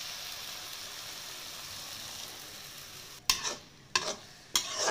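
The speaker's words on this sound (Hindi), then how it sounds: "नल्ला फ्राई पन्निकेंगे" Onion and egg bhurji fries in a pan with a steady low sizzle, then three loud, sharp stirring scrapes of a spatula follow in quick succession near the end.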